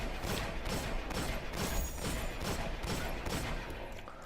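Imago Loop weapon firing in Destiny, a fast steady stream of punchy shots in regular bursts, loud and close throughout the whole stretch, with no talk.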